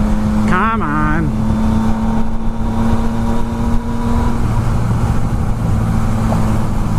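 A Yamaha XSR900 motorcycle rides through traffic, its engine holding a steady drone with a brief rising rev early on, heard loud and close under constant wind rumble.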